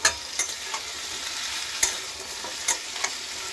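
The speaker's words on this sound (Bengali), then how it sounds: "সাত মিনিটের মতন একদম মাঝারি ফ্লেমে নাড়াচাড়া দিচ্ছি" Chunks of green mango fry in a pan over a medium flame, a steady sizzle broken by several sharp clacks and scrapes as a spatula stirs them, close up and with no voices.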